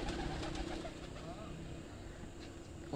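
A pigeon coos softly on a rooftop where fancy pigeons are kept, its low, quiet murmuring calls mingling with faint voices in the background.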